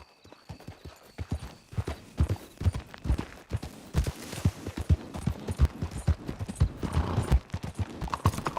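Steady clip-clop of horse hooves from Red Dead Redemption 2, a close, rhythmic trot that continues throughout and grows slightly busier toward the end, with no talk over it.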